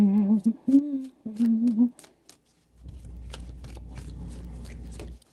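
Tarot cards shuffled by hand, a soft riffling rustle that runs steadily for a couple of seconds, close and moderately loud. It follows a few short humming or voiced tones and a brief pause.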